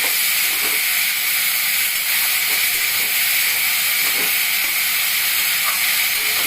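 Drumstick flowers and green chili sizzle steadily in hot oil in a pan with no water added, a dense, continuous hiss and crackle that stays loud and close throughout.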